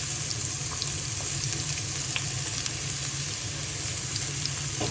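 Onions frying in sesame oil with fennel seeds for a bitter gourd thuvaiyal, giving a steady, close, even sizzle with faint crackles that runs unbroken through the whole clip, no voices.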